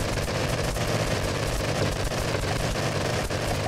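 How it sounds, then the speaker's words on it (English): An 80 mm cannon in From the Depths firing constantly at roughly 600–700 rounds per minute, a loud, dense stream of rapid blasts running without pause. "this cannon, the way I built it, is to shoot 80 millimeters constantly at around 700-600 RPM"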